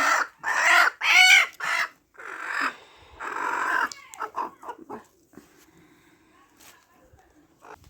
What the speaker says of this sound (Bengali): ঝুড়ির ভিতরে মুরগিটাকে বসিয়ে দিলাম